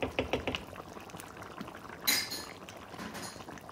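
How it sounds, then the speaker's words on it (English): Water from a mug is poured into a cooking pot holding chicken and garlic pickle, giving a short splashing pour with a light clink, after some earlier clinks of utensils. "I put in 1 mug of water."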